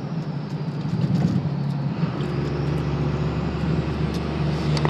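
A Cummins diesel truck with a five-speed gearbox drives in fourth gear at about 30 mph with its turbo spooling, giving a loud, steady engine drone and road roar heard close from inside or near the truck.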